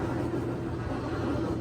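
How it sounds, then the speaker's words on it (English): A washing machine and clothes dryer run together behind a homelab rack, giving a steady, broadband low rumble and hum that stays constant and fairly loud throughout with no speech. "I've got both the washer and the dryer running behind me."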